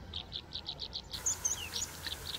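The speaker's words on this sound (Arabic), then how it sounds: "طائر صغير الحجم بين الحشائش هون" A small bird in grass gives a quick series of high, rhythmic chirps, fairly faint over a soft outdoor background in below-freezing weather, followed by a few scattered sharper notes.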